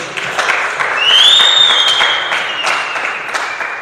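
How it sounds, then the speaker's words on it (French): A church congregation applauds during a service, a loud, sustained wash of clapping from a crowd, with a high sliding tone rising briefly over it. "Acclamons très fort le Seigneur."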